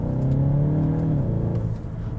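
Cupra Terramar engine revving in a lower gear, a steady, loud mid-pitched drone with a clear rising then settling tone as revs climb, heard from inside the car without talk.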